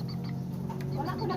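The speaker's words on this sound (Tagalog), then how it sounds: "Dagan kay manok na dun sa tindahan" Chickens near a roadside shop, a few soft clucks and short calls coming and going over a steady low background hum.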